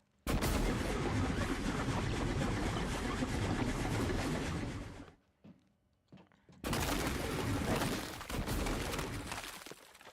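GLOO cannon fire in the video game Prey, a dense, loud sustained burst of spraying shots for about five seconds, a brief quiet gap with small pops, then another long continuous blast.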